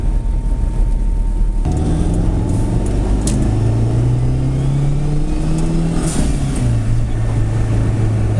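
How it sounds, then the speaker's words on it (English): A turbocharged Honda Civic EF revs loud and close under steady engine roar, with rising and falling tones as the big turbo spools and a whoosh of released boost pressure between pulls; no one speaks. "big turbo sound, big turbo spooling, and the release of pressure."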